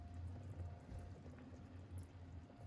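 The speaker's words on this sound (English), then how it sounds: "I'm just gonna drain mine." Cooked tagliatelle draining in a home kitchen gives a steady wash of pouring water and low liquid rumble, continuous and fairly close, with no talking.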